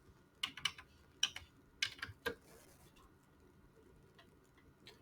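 Quiet computer keyboard typing as a zip code is entered on the PlanEnroll website: a few quick clusters of crisp key clicks in the first two and a half seconds, then near silence with a soft late tap.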